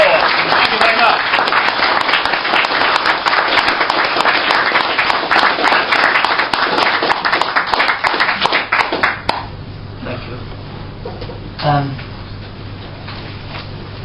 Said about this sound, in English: Give him a good hand of applause.